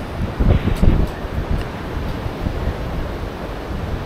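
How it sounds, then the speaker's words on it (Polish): Strong wind buffeting outdoors on a cloudy, exceptionally windy winter day in late December, a steady broadband roar with gusty swells and rumbling microphone buffeting, no voices. "Być może będzie to najwietrzniejszy dzień podczas obu wędrówek."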